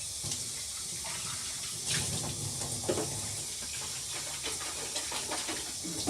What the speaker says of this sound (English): So we're going to now rinse this out with cold water.